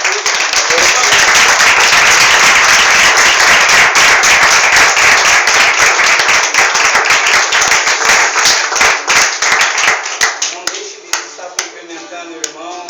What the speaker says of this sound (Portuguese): mais uma salva de palmas para Jesus